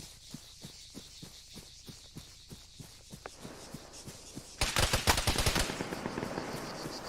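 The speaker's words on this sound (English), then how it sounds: "I'm being shot at from that vehicle" Gunfire in Arma 3: a regular run of single shots at a steady rhythm, then a sudden louder, denser burst of rapid automatic fire that continues to the end.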